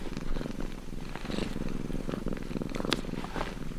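A domestic cat purrs steadily and close up, a continuous low rumbling vibration with faint rhythmic pulses, alone without voices.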